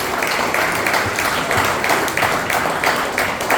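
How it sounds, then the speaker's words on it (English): A round of applause from an audience at a meeting, a continuous, fairly loud wash of many hands clapping with some rhythmic pulses, and no clear talk over it. "Let's give a great round of applause for him,"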